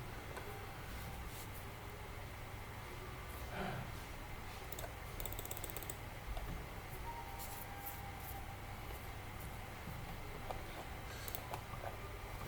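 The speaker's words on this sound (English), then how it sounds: "I'm just typing down the ideas that I want to make into videos." Rapid, irregular key clicks from typing on a computer keyboard, close and fairly quiet, continuing steadily over a low background hum with no talking.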